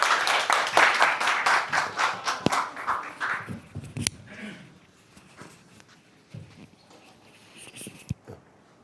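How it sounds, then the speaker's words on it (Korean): A small lecture audience claps to welcome a speaker, brisk scattered applause for about four seconds that tapers off into quiet room tone with a few light knocks and shuffles. "자, 우리 그 박우평 선생님 환영의 박수 좀 하게요"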